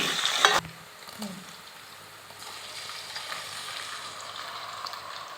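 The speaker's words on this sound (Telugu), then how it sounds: "ఉల్లిగడ్డల తర్వాత మెంత వేసుకొని అలా ఇలా కలిపేసుకోవాలి కొంచెం వేగేదాకా ఉంచాలి" Onions and fenugreek seeds frying in a pan as they are stirred, a steady close sizzle after a brief clattering start, continuing evenly without speech.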